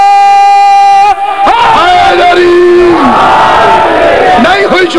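A crowd at a religious gathering shouts a slogan in unison, a loud massed chant rising and falling over about four seconds after a brief sustained tone.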